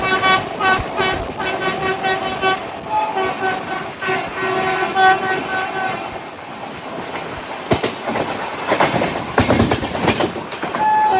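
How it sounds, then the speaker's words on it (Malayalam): A loco pilot sounds the horn of a moving nonstop Bandra to Jaipur train in a loud, varied series of long and short tooting blasts, which give way to rattling clickety-clack from the rolling wagons. "ലോക്കോ പൈലറ്റ് ഭയങ്കര വെറൈറ്റി ഹോണടിയൊക്കെ കേട്ടോ."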